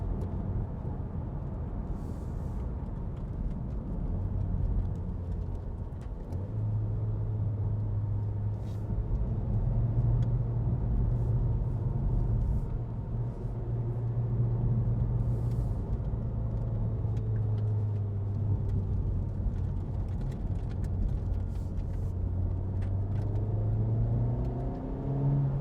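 A 2017 Honda Civic Type R with its 2.0 VTEC engine drones from inside the cabin while driving, a steady low rumble that rises and settles in pitch as the revs climb, with road noise underneath.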